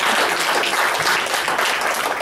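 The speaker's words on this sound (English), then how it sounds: "Give them a hand clap." A church congregation claps together in a dense, sustained burst of applause, steady and close throughout with no voices over it.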